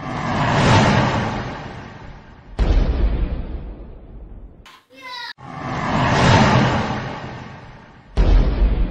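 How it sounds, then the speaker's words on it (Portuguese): Bazooka blasts at a dinosaur in the fantasy film Dragonheart: Battle for the Heartfire, with heavy booming explosions and rumbling roars that die away slowly, loud and close, recurring several times with a brief quiet gap midway. "O meu irmão Sam vai dar dois tiros de uma bazuca pro dinossauro."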